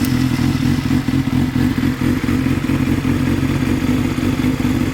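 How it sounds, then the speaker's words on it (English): A Honda CBR600RR motorcycle engine idles steadily up close, a loud, continuous mechanical rumble with light clatter that has a coolant leak from a radiator hose, with no speech. "So I got the bike running pretty good now."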